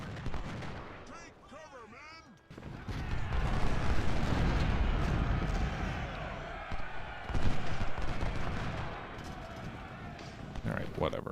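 Massed musket and artillery fire from the Civil War battle game Ultimate General: Civil War rumbles in a dense, sustained roar with sharp cracks and booms, under someone talking early on.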